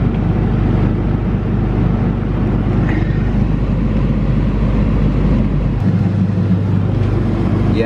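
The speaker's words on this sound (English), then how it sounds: "Oh, high idle." A Volkswagen Jetta engine running at high idle on a freezing winter day gives a steady, close, low droning hum that stays continuous with no speech over it.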